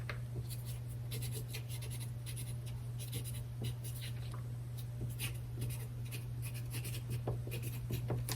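A marker writes a label on a plastic freezer bag of squash and zucchini, heard as continuous close scratchy strokes over a steady low hum, with no talking.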